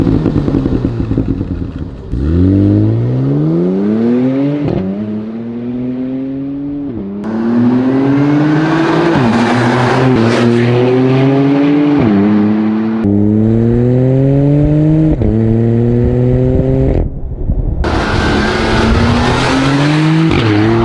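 A Porsche Cayenne GTS with a 440 hp V6 accelerating hard, its engine note climbing through several gears with sharp shifts between each pull, loud and close throughout.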